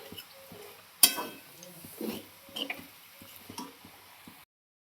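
Kurdai and papad fry in hot oil with a faint, steady sizzle broken by scattered crackles and small pops, close by and fairly quiet.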